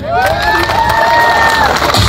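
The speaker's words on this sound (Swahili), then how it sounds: "wacha nisikie makofi ya Baby T" A lively crowd cheers and shouts loudly and continuously for a performer, with a sustained high wavering cry rising above the dense mass of voices.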